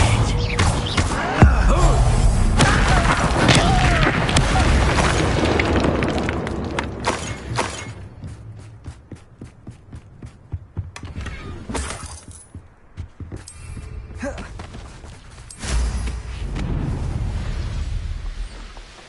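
Bombarda explosion spell going off in the video game Hogwarts Legacy, with a loud shattering, rumbling blast and debris crackle that fades out, then a second burst, all near and heavy.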